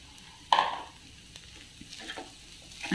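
Freshly grated white coconut being stirred into masala rice made from leftover rice in a pan, with one sharp scraping clatter near the start and soft spoon scrapes and light sizzle-like rustling after, fairly quiet, no talking.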